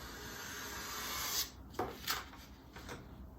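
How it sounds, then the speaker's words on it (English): A razor blade scrapes excess Z-Poxy off a wooden surface in a few short, faint rasping strokes over a quiet background. "I'm gonna take my razor blade and I'm gonna scrape off the excess"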